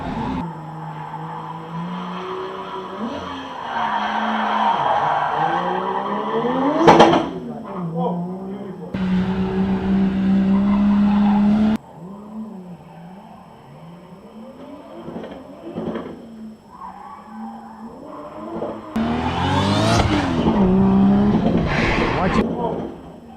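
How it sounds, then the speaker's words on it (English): Nissan 350Z race cars running a gymkhana test at Killarney raceway, engines revving and rising and falling in pitch with tyre squeal and sliding, loud and close, with an excited commentator talking over much of it. "Folks, you have to be here to witness that sound."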